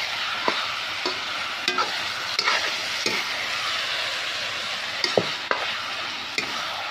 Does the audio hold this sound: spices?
yes